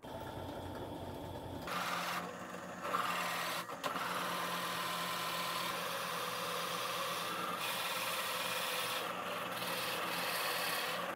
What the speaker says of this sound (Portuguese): Eu vou começar com um rebaixo de 5 milímetros usando a broca de 35.